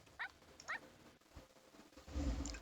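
A dog in The Sims 4 video game gives a couple of short, bright yips or whimpers, followed by soft game ambience and a low rustling rise toward the end.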